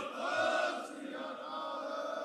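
A crowd at a Shiromani Akali Dal political gathering shouts the Sikh jaikara war cry in unison, a loud, sustained, massed roar of voices lasting the whole stretch, swelling early and then holding steady.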